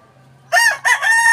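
A backyard rooster crows loudly and close by, a single strong call with stacked harmonic bands that rises sharply, dips briefly, then holds, preceded by a faint low hum and no speech.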